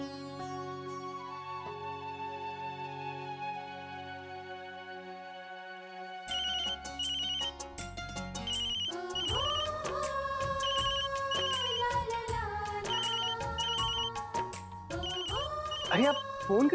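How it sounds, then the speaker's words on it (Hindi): A telephone ringtone plays on and on in a domestic drama scene, a melodic electronic tune under background music, with speech likely mixed in. "अरे आप फोन क्यों नहीं उठा रही है?"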